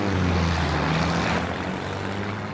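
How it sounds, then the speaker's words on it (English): A propeller airplane passes overhead, a steady droning engine hum that stays loud and fades slightly toward the end, with no voices. "Where is that plane going?"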